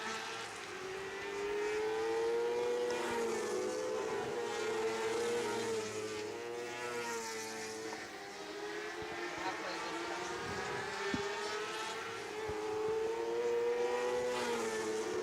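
Race cars roar through a heat race at Grand Bend Speedway, a loud, steady engine drone that rises and falls as the pack circles the oval, close and continuous for the whole stretch.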